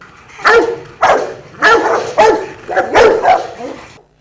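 Rottweiler dogs bark loudly and close by, about six deep, separate barks in an uneven rhythm with short pauses between them.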